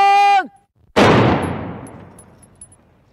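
A single loud ceremonial gun salute volley from a music band's anniversary celebration in Niederdorf, South Tyrol, cracks sharply and rolls away in a long fading echo. A held brass-like tone sounds just before it.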